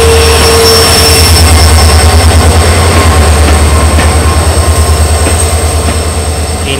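The Karwar–Yeshwantpur day train rolling into Puttur station, loud and close, with a heavy low rumble and a fast regular clatter of wheels over rail joints that slowly eases as it passes, no talking.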